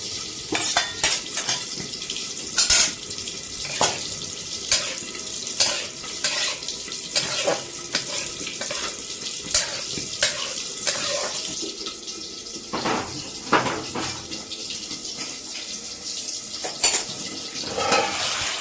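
Onions frying in a pan for a fish-head and Malabar spinach dish, a steady loud sizzle with frequent metallic clinks and scrapes of a utensil against the pan, close up and without talk.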